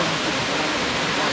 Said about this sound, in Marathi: आणि हा संपूर्ण सुंदरसा वॉटरफॉल कॉल्ड महादेव धबधबा.